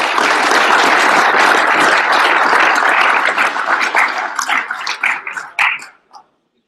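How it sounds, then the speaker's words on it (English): Audience applause fills a symposium room on Blanc du Bois wine, loud and dense at first, then thinning into scattered separate claps and fading out to silence near the end. "so applaud to them"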